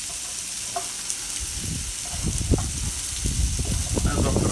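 Bacon and onions sizzle on a Camp Chef flat top grill, a broad steady hiss with crackling pops that grows louder as more food goes down, and muffled handling noises mixed in.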